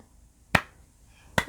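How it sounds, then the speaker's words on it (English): Two sharp, isolated hand claps spaced about a second apart, close and fairly loud in an otherwise quiet room. "see that clap? You see that clap?"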